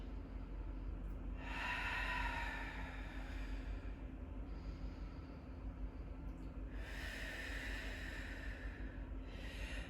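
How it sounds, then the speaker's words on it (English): Deep breathing during a yoga flow, with two long, airy breaths exhaled through the nose, close and soft over a low steady background hum. "So we'll take 2 big breaths in here. You're welcome to exhale out through the nose if you wish."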